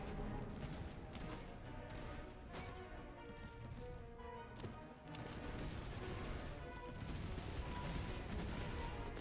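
Musket volleys in the Master of Command video game ring out as repeated sharp cracks over a dense battlefield din, loud and continuous with scattered heavier impacts.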